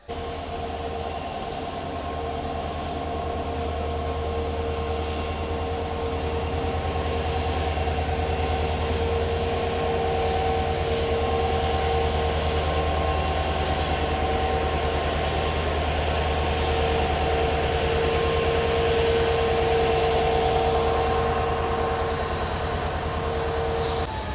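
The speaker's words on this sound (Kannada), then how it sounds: "ಸೊ ಟ್ರೈನ್ ಅಪ್ರೋಚಿಂಗ್ ಇದೆ" A Yesvantpur–Vijayapura special fare train approaching Kadur railway station at night, a steady loud rumble of locomotive and wagons rolling in, sustained and slowly building with a faint high whine above.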